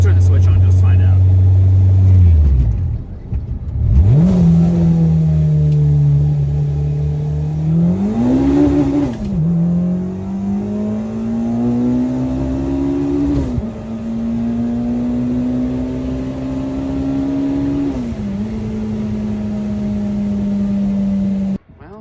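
A K-swapped Mini Cooper on nitrous pulls hard, its engine note climbing through the revs in long rising sweeps with brief dips at each gear shift, loud and close from inside the car, ending in a sudden cutoff.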